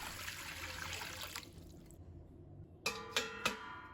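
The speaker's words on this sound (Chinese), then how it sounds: "接着起锅，倒入清水，" Clear water is poured from a cooking pot, a bubbling stream running for about two seconds. It stops, and three sharp metallic clinks of kitchenware follow close by.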